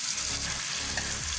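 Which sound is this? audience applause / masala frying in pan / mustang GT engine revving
masala frying in pan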